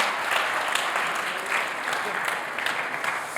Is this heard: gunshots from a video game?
no